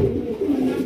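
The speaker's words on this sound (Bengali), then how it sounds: "দর্শক মাত্র 1700 টাকায় ব্ল্যাক কালারের ডাউকা কবুতর একদম বিগ সাইজের মধ্যে" A large black Dauka pigeon gives a short, soft, low cooing call close to the microphone, alone and without any talk.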